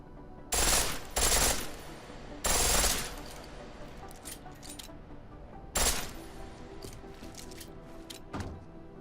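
A pistol fired on full auto in the video game Deus Ex Mankind Divided, heard as three loud, rapid bursts that start and stop sharply, with a fainter short burst near the end and a low background hum.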